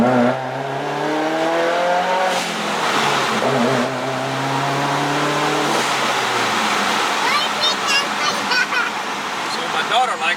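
A 2015 Subaru WRX turbo fitted with a hybrid blow off valve drives by loudly, engine tone rising and falling through gears with rushing turbo and wind noise, a voice faintly audible in the cabin.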